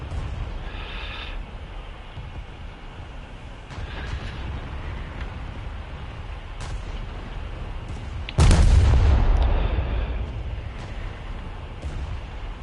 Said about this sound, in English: Dude, that broadside is deadly to anybody.